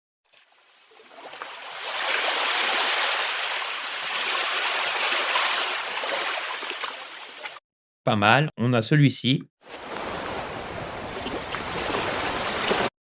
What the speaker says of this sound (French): c'est un son de plage, plage beach